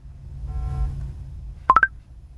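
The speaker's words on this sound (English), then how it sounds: "Is your phone going off?" A phone gives three quick rising electronic beeps, close and clear, after a stretch of low background rumble.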